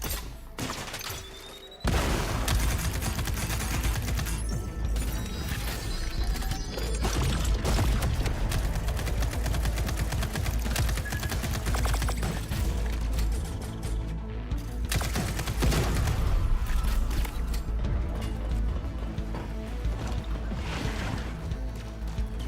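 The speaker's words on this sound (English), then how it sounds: "This turret is protected with heavy armor. Let's toss a thruster grenade to deal massive damage." Gunfire and a thruster grenade hit a heavily armored turret in a video game trailer: a loud, dense, continuous barrage of booming blasts and shots that begins after a brief quieter moment and carries on throughout.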